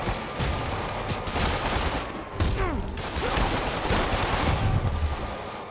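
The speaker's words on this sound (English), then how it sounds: "Stop firing at people." Rapid gunfire from armed thugs in a Spider-Man video game, dense bursts of overlapping shots and fusillades rattling continuously against a busy combat soundscape, loud and close throughout.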